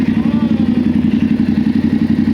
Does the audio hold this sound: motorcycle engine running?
yes